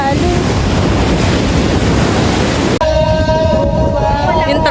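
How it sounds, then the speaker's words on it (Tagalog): Ocean waves at the beach roar loudly with wind buffeting the microphone for nearly three seconds, then the sound cuts abruptly to quieter surf overlaid by sustained tonal sounds. "Grabe, alon."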